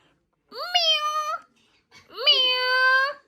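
Two drawn-out, high meows, one after another with a short pause between, close and clear with no other sounds.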